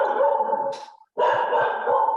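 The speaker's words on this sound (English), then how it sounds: "Sorry, it's our watchdog. The dog's pissed off at what I'm saying." A dog barks close and loud in two long, harsh, sustained outbursts separated by a brief silence, dominating the scene.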